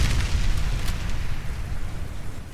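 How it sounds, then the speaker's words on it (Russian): A bomb explodes in the Warface shooter video game, a deep rumbling blast that rolls on and slowly fades. "Они взорвали бомбу."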